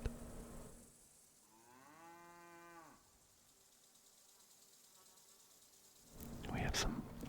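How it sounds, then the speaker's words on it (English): Cows low in a long drawn-out moo, then a second rougher moo, over a steady bed of buzzing and chirping insects, in the video game Kingdom Come: Deliverance II. "and chirping, and a couple cows mooing as well."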